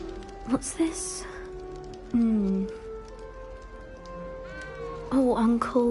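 Small cat meowing in the video game Hogwarts Legacy, a few short cries rising and falling against a soft rain-like background, with a character speaking over parts of it.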